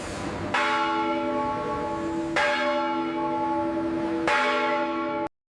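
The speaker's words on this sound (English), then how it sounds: "The ship's bell ringing for the change of watch." A ship's bell aboard the Titanic rings for the change of watch, three evenly spaced clear metallic strikes, each with a long shimmering ring that overlaps the next before stopping abruptly.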